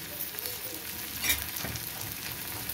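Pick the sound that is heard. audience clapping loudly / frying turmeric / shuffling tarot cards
frying turmeric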